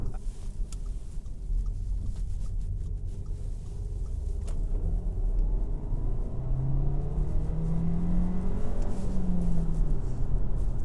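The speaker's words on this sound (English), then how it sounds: "the car sounds pretty well, and what you actually hear comes from the engine" An Audi Q2 with the 1.4 TFSI engine hums while driving, a low, steady engine drone and road rumble heard from inside the cabin, building gently as it pulls, with no talk over it.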